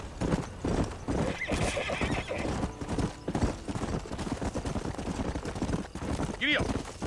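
A horse clip-clops along at a riding pace in the Western game Red Dead Redemption, near and steady hoof beats with a whinny near the end and a voice talking throughout.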